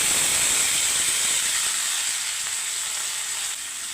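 Chopped papaya dropped into a hot pan of oil with chillies and curry leaves, a loud close hiss and sizzle that starts at full strength and eases slightly toward the end.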